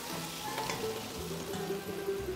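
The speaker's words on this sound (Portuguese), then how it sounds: "E vou colocar na panela junto com aquele tomate que eu salteei." Rabbit stew ingredients sizzle in a pan with sautéed tomato, a steady, fairly quiet frying crackle with occasional stirring scrapes, no voices.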